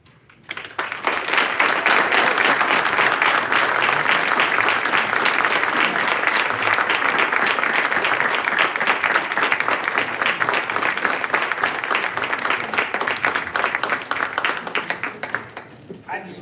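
Sustained audience applause fills a borough council meeting hall, loud and steady for about fifteen seconds before tapering off at the end, with a few voices mixed into the clapping.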